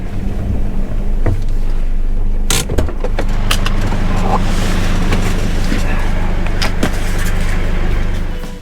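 A 4WD vehicle idles and rumbles on a mountain track as it pulls over, with a steady low engine drone, a few sharp clunks and rattles inside the cabin, loud and close.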